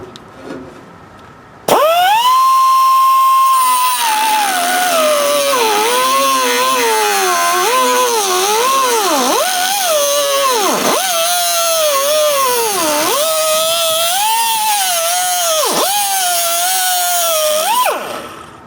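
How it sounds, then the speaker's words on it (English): A power tool's cutting blade grinds into thick metal on a Ford F100 truck, a loud continuous whine starting abruptly and wavering in pitch as the blade bites and eases for about sixteen seconds. "I'm going to try another cutting blade there and see what happens"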